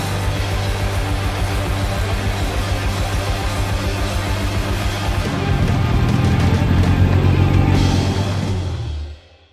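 Steady low engine drone from a classic car running during a road convoy, loud and continuous with a slight rise in pitch midway before fading out at the end.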